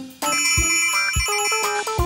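A cartoon telephone rings with a bright, bell-like electronic trill that starts abruptly and repeats in quick rhythmic bursts, loud and close with no talking over it.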